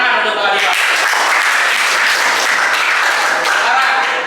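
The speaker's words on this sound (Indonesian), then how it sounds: "Tepuk tangan untuk Pak Alifah." A classroom bursts into applause for a presenter from group 2 during a lesson. Dense, loud clapping fills the whole stretch, with some voices mixed into the noise.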